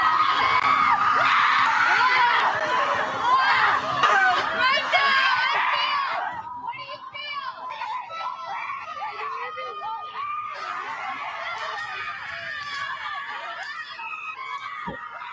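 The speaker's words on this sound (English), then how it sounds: "Go into the woods and scream it all out." A group of women shriek and wail loudly in a chaotic, sustained outburst, some voices breaking into laughter-like whoops, continuing at a slightly lower level after the first few seconds.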